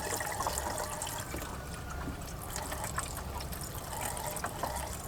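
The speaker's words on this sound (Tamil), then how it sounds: "இப்போ வந்து அதை தண்ணி ஊற்றிடுவோம்." Water is poured into a car's windshield washer reservoir, a steady close trickle and splash of liquid running continuously at moderate volume with no talking.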